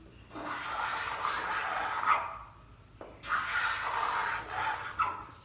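A Festool paint nib remover is dragged across a painted surface at a shallow angle, shaving down high spots. It makes two long, close rasping scrapes separated by a brief pause, with no talking.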